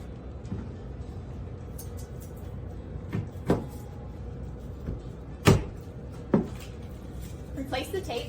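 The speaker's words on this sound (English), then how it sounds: "You just slide in the filter, and then we will place back on the door." A filter access door set back onto HVAC equipment during a home build, with several sharp knocks and clunks of panel contact over a steady background hum.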